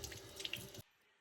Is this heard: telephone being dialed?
no